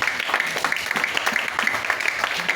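A church congregation applauding during a worship service, steady dense clapping throughout at moderate distance, with a reverberant room sound.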